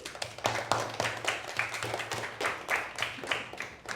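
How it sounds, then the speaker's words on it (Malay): A class of schoolchildren clapping their hands for themselves in a classroom, a fairly quiet, uneven patter of many hands lasting a few seconds. "Tepukkan tangan, tepuk tangan untuk diri sendiri."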